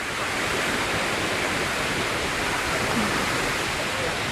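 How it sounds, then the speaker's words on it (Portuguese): A waterfall at PETAR in Brazil, a steady, loud, broadband rush of falling water filling the whole clip without letup, close by. "Agora é a cachoeira."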